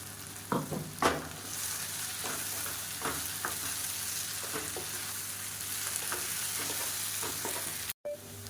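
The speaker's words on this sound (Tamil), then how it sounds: "சேர்த்துட்டு நல்லா வறுத்துக்கலாம்" Raw banana pieces frying with added spice powder in a pan, a steady close sizzle with scattered stirring scrapes and taps throughout, no voices.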